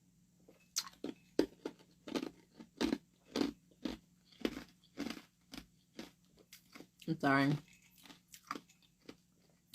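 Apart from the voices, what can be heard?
person chewing and crunching ice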